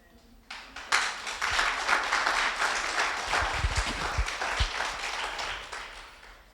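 A church congregation gives a brief, fairly quiet round of applause, a soft wash of scattered clapping that starts abruptly and holds steady at moderate distance.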